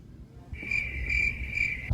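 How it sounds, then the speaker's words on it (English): Crickets chirp in a short burst of three bright, pulsing trills that join into one steady stretch, played as a quick comic sound effect over faint background noise. "Crickets on that one."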